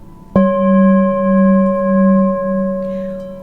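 A Himalayan singing bowl is struck once with a mallet, giving a clear metallic attack followed by a long, steady, ringing tone that slowly wavers as it sustains. It is close and fairly loud, with no talking.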